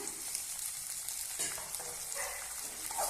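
Chopped tomato and onion sautéing in a pan make a dense, continuous sizzle, close and fairly loud, with soft stirring scrapes in between and no voices.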